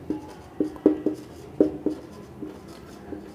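Marker or chalk writing on a board during a physics lecture on electrostatics, a series of short squeaky strokes in an uneven rhythm, close and fairly clear, with no talking over them.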